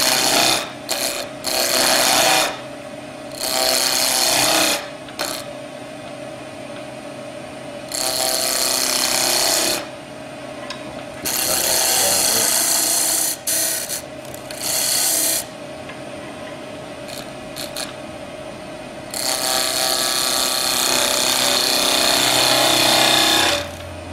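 A skew chisel cutting timber on a wood lathe, forming pommels, with loud rasping bursts of cutting separated by quieter gaps of the spinning lathe, repeated several times over the stretch.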